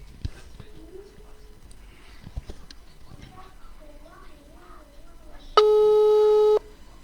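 A telephone busy signal on an outgoing call comes in as a loud, steady electronic tone lasting about a second near the end, following quieter background sounds.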